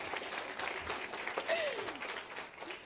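An audience claps steadily throughout a school event, a dense wash of applause with a faint whistle or voice rising above it partway through.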